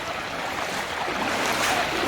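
Water rushes loudly and steadily down the Talaghar waterfall in Roha, Konkan, swollen after heavy monsoon rain, heard as a close, dense, unbroken roar.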